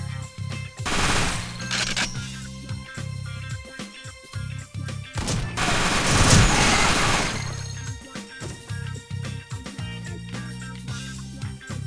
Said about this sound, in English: Dual Tommy guns!